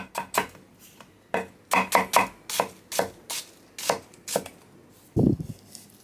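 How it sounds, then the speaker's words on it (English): A knife chops ingredients for omurice fried rice into very small pieces on a cutting board, about a dozen crisp, close knocks in an irregular rhythm, heard alone without any voices. "let's get started by chopping the ingredients for the fried rice"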